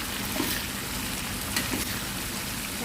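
Fresh mackerel fries in a pan with southern curry paste, giving a steady dense sizzle with small crackles and pops throughout, close and even.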